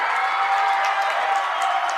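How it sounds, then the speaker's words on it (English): A stadium crowd of soccer fans at a girls' state semifinal stands and cheers, a loud, sustained roar with scattered whoops and clapping, steady throughout. "The fans on their feet cheering on their side."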